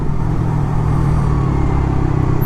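Raider 150 Fi motorcycle engine held around 2.5 to 3k RPM with a remapped ECU, a steady low rumbling drone with slight uneven sputter, close and loud throughout.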